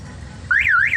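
A Toyota Hiace van's car alarm comes on suddenly halfway through, a loud nearby electronic siren sweeping up and down in pitch and heard alone.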